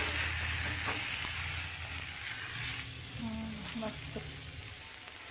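Thalipeeth sizzles steadily on an oiled griddle, a close, even frying hiss with small crackles, while someone talks over it.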